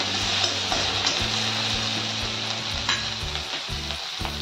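Curry leaves, a pinch of asafoetida and spices sizzle and fry in hot oil while being stirred for vada pav filling, a steady close crackle with scraping stir strokes and no talk.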